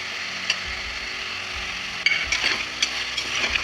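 Chicken sizzling in a pan for biryani with ginger garlic paste, a steady frying hiss broken by a few close scraping stirs near the end, no talk.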